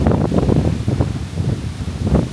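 Wind gusts on a Panama island hilltop with coconut trees roar across the microphone in low, buffeting rumbles, steady and close, with no voices.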